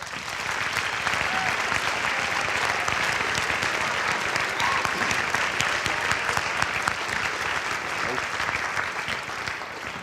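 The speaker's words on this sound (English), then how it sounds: "let's give our parents a big round of applause" Crowd at a high school band concert gives a long, steady round of applause, many hands clapping evenly at moderate loudness for about ten seconds.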